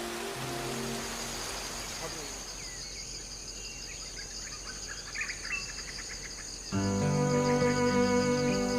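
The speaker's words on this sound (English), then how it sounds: "Large raindrops moisten the forest foliage." Large raindrops patter steadily on forest foliage in western lowland gorilla habitat, a dense wash of hiss that stops, then a musical tone takes over, with faint insect chirps and calls throughout.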